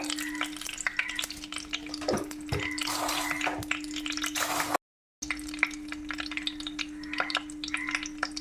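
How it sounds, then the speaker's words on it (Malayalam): Fenugreek seeds fry in hot oil with mustard seeds in a Kerala kitchen, making a continuous light crackle with scattered pops and stirring scrapes, broken by a brief silence partway through. "കടുക് പൊട്ടുമ്പോൾ ഉലുവ ഇടുക."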